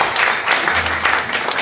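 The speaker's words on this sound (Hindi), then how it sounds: "ताली बहुत बजाओ" An audience at a Shri Krishna Katha religious discourse applauds: a dense, even wash of many hands clapping at once, steady and moderately loud, with no talk over it.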